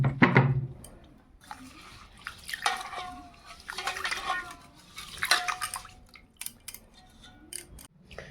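Raw rice being washed by hand in water in a home kitchen: swishing, dripping and grains rubbing against a metal pot in irregular bursts, close by with someone talking over it.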